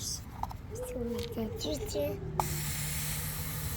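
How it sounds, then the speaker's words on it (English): Short hissing spritzes from a spray bottle come in quick bursts, with a voice talking and squeaking over them. "Let me just water these plants real quick"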